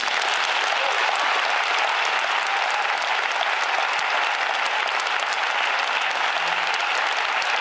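Sustained, dense applause from an evening audience for Dr Fleury, loud and steady throughout with no pauses, a continuous wash of many hands clapping close by.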